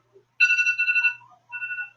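A phone reminder alert ringtone plays close and clear, a bright electronic melody in two phrases with a short pause between them, heard alone without speech.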